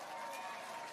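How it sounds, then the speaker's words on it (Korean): An audience claps for a speaker at a political event, a brief, even, faint wash of applause heard from a distance. "박수 감사합니다"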